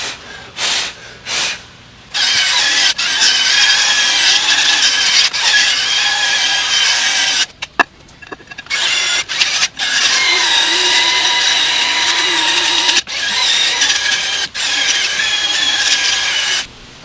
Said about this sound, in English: that is our brake pad deposits that we are scrubbing off